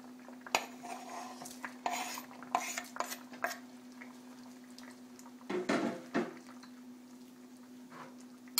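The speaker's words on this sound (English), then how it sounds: "Now we're going to put our jackfruit in." Jackfruit pieces dropped into a pan of coconut milk for Filipino ginataan dessert, with clinks of utensils against the pan, a soft splashy stir in the middle and a steady low hum throughout, no talking.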